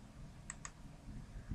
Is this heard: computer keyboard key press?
yes